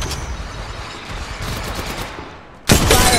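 Rapid gunfire from the mobile battle royale Apex Legends Mobile: a dense, continuous rattle of shots, then a sharper, louder burst near the end. No voices.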